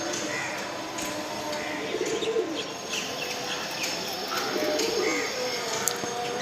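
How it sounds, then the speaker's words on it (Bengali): Domestic pigeons released from a home balcony coo softly amid faint chirps and a steady background hum, distant and low in level, with no clear wingbeats standing out. "আমার টোটাল কবুতর ছাড়লাম হচ্ছে চারটা"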